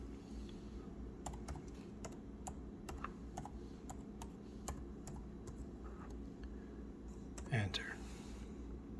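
Someone types a password on a keyboard, a dozen or so quiet, close key clicks in an uneven rhythm over a low room hum, with a slightly louder tap near the end.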